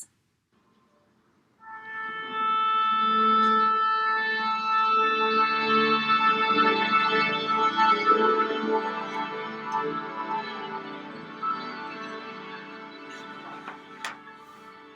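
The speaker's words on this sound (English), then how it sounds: "they tune, and they tune to the oboe." Full orchestra tuning to the oboe's reference pitch, a sustained pile of held string and wind tones that swells in after a quiet start and lingers as a dense, reverberant drone until the end.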